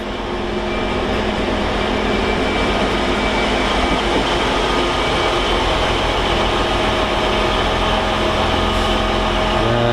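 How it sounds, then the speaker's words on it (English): A DB Cargo class 66 locomotive in EWS livery, running as a light engine at Doncaster station, gives a continuous heavy diesel drone and rumble that holds steady and fairly loud throughout. "Next up we've got a light engine move. It's DB Cargo 66, still in EWS livery."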